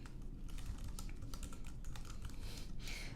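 Fast, steady clicking of a computer keyboard as text is typed into a presentation in Prezi, quiet and close with no voices.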